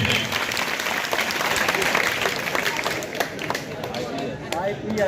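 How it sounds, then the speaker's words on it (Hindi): A crowd of schoolchildren at an intermediate college in Mahoili claps loudly and continuously, dense applause holding steady throughout before thinning slightly toward the end. "तालियां बजाओ बच्चों जोर से।"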